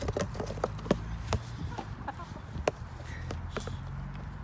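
Backyard chickens, including a small bantam, cluck and squawk in short, irregular bursts while pecking at a lunch of baby shrimp and sweetcorn, with light scratching and movement close by.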